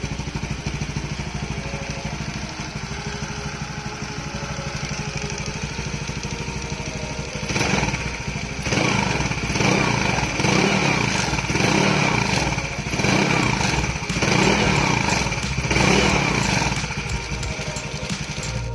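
A motorcycle fitted with a new low-noise aftermarket exhaust idles steadily, then revs in several bursts during a leak check, a close, throbbing engine sound with no talk.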